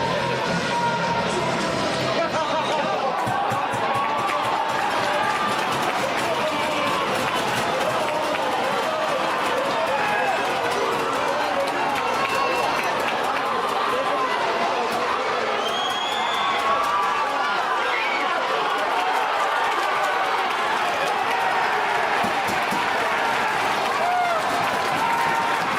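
Ice hockey arena crowd of about 2,500 roaring during a fight in a UK NIHL game, a loud, sustained wash of cheering and shouting that holds steady throughout, with commentary talk mixed in.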